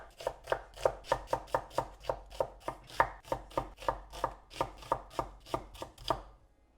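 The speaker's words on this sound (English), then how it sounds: "Just going to roughly chop them up." Two leftover onions roughly chopped with a knife on a board, about eighteen even, steady chops in a quick rhythm, close and crisp, with no one talking.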